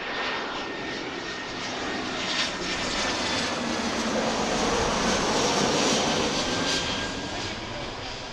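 An American Airlines Airbus A319 arriving from New Orleans passes at Philadelphia airport during rush hour, its loud jet roar swelling steadily and then easing off, with no other sound over it.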